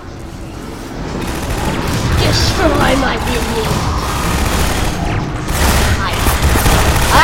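Gunfire in Half-Life 2: Episode One comes as rapid repeated shots and booms over a dense, noisy game soundscape, with a person talking excitedly over the action.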